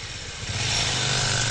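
A motorcycle engine idles close by with a steady, throbbing low rumble, brief and unbroken, with no voices.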